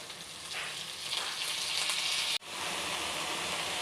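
Leafy greens dropped into a pan of fried shrimp, onion and garlic with turmeric, giving a loud, steady sizzle close by with a brief break partway through.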